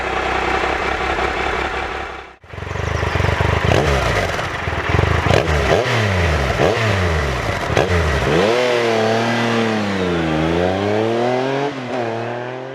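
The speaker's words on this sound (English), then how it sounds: "bearing in mind it is a adventure bike, standard exhaust. It sounds beautiful, really raspy." An adventure motorbike with a standard exhaust, its raspy engine revving up and down repeatedly through rising and falling sweeps, loud and close, with a brief cut near the start and no talking.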